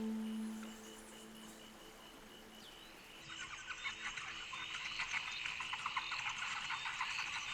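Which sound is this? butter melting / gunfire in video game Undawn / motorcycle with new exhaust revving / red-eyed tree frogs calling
red-eyed tree frogs calling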